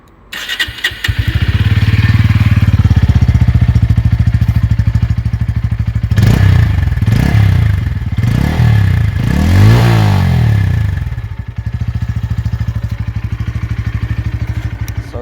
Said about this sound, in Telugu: ఒకసారి ఈ బండి యొక్క ఎగ్జాస్ట్ సౌండ్ ఎలా ఉంటుందో మనం చూద్దాం.